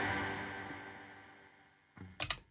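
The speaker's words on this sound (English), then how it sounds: "just a really good programmable reverb that I've got set to, I want to say, a plate" Electric guitar run through a Hoff Mini programmable reverb pedal on a plate setting: a chord rings out and fades slowly into a smooth wash, then a few sharp clicks follow near the end.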